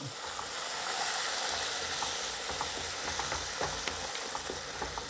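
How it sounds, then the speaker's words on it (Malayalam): Clam curry simmers and sizzles steadily in the pan as first-press coconut milk is poured in, giving a continuous bubbling hiss with small crackles and pops and no talk. "തേങ്ങയുടെ ഒന്നാം പാലാണ് അതൊന്ന് ഒഴിച്ചു കൊടുക്കാം"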